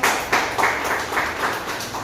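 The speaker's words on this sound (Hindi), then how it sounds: "एक इनके लिए ताली बजा सकते हैं क्या?" Audience clapping at a business meeting in Ghaziabad, a moderate wash of hand claps pulsing in several waves, fairly close and without talk.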